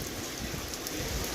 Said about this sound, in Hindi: तो कितनी तेज़ बारिश हो रही है, ये देखो बहुत तेज़ बारिश है।